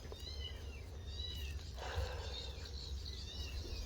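Several small kittens meow in a rural yard, with high, thin cries repeating through the clip over a steady low outdoor hum.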